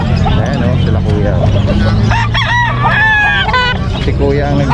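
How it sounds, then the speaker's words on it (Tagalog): Fighting roosters for sale crow and cluck at a busy outdoor market in Bocaue, loud and close, mixed with a steady hum of chatter and people talking nearby. "may mga nagbebenta naman dito ng mga panabong na manok"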